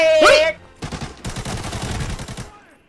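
Loud automatic gunfire in the video game Arena Breakout: a brief tonal blip, then rapid close bursts of shots rattling on for nearly two seconds before stopping.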